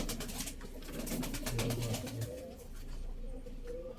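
Soft, repeated cooing of pigeons close by, low and throaty, with steady background hum and no talking.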